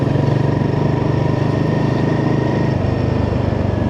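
A Royal Enfield motorcycle runs close by with a steady, loud, thumping engine note, rising slightly in pitch near the end as the rider works through the gears.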